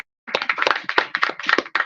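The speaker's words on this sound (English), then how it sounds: "Round of applause for him." A small audience at a book giveaway event gives a short burst of applause for the sound engineer, with a handful of hands clapping unevenly and close for under two seconds.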